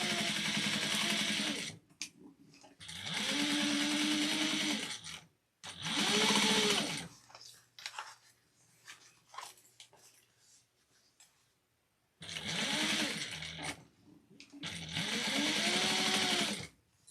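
A sewing machine basting a seam on a crossbody bag runs in five loud, close bursts of rapid whirring stitching, separated by quiet pauses with small handling clicks and fabric rustles.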